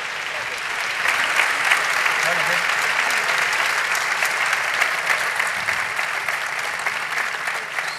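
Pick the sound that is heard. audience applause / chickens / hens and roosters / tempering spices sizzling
audience applause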